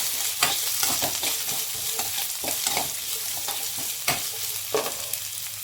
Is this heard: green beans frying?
yes